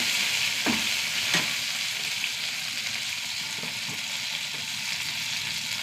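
Curry leaves, shallots and onions sizzle steadily in a pan, a constant loud frying hiss with a few soft stirring scrapes, no voices.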